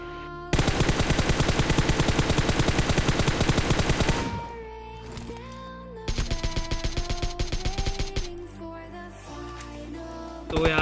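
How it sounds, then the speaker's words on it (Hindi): Automatic weapon fire in the PUBG Mobile KR version, loud rapid bursts rattling for several seconds, a pause with ringing tones, then another sustained burst and a final short one, with no talk. "तभी सामने से फायर आता है और कुछ बंदे आते हैं।"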